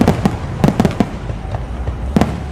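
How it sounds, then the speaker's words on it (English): A fireworks show plays back from a phone, with loud repeated bangs and crackling pops in irregular bursts, some in quick clusters, over a constant background rush. "I found some fireworks on the YouTube app here, and I'm going to record them for you"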